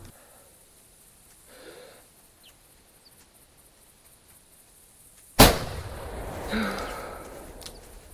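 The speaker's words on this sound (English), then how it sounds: "Guess shoot him with a pistol." A single sharp pistol shot cracks out in a hunting video game after a long quiet stretch, followed by a lingering rumbling echo and faint ambient wildlife.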